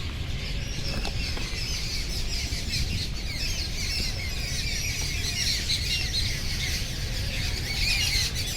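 Birds chirp and squawk outdoors, a dense, continuous chatter of many calls at moderate distance over a steady background hiss.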